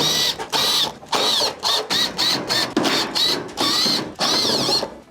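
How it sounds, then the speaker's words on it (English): Phillips screws being driven out around the perimeter of a Whirlpool stove top panel, a loud buzzing power driver running in repeated short bursts with brief pauses between, close up, no talking. "remove the top panel by taking out all of the Phillips screws around the perimeter"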